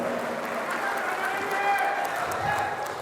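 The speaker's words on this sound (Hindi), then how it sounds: "जोरदार तालियों से इस्तकबाल कीजिए आप अपने महबूब पसंदीदा शायर का" An audience at an international mushaira in Muscat, Oman, applauds a poet with steady, dense clapping that holds at an even level throughout, loud and close, with a few voices mixed in.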